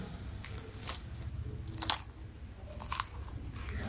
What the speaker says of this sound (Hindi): तो आपने आवाज़ तो सुनी ही ली होगी कि ये कितनी खस्ता बनकर तैयार हुई है